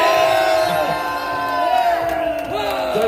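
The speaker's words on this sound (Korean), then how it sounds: "모두 큰 박수 부탁드립니다." Rally crowd at an outdoor political gathering cheering and shouting together, a dense, steady roar of many voices with whoops rising above it throughout.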